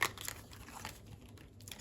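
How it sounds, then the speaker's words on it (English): Stiff tarot cards are shuffled, giving a soft, continuous papery crinkling and riffling with a few sharper snaps, fairly quiet and close, with no talk. "These cards are a little stiff and not wanting to shuffle."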